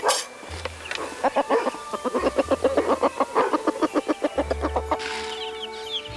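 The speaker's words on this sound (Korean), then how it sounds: "직접 부화시킨 병아리들" Home-hatched chicks and chickens on a riverside farm in Gokseong, South Korea, cluck in quick, rhythmic bursts, close and lively. Brief low engine-like hums sit underneath, and higher chick peeps come in near the end.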